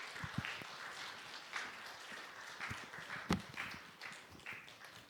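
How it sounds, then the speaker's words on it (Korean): Congregation in a church applauding to welcome a pastor to the pulpit, a moderate, steady patter of clapping throughout with a few sharper claps standing out. "우리 송명덕 목사님 나오실 때 박수로 이렇게 환영하며 맞이하겠습니다"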